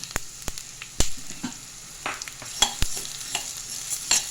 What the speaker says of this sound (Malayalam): മല്ലി ഒന്ന് നന്നായിട്ട് വഴറ്റിയെടുക്കണം കളറൊക്കെ ഒന്ന് മാറണം